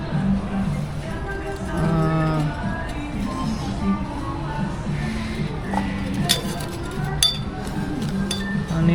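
Stainless steel spoons and other kitchenware clink and rattle against each other in a household goods shop, with light metallic taps and jingles scattered through the clip while someone talks over them.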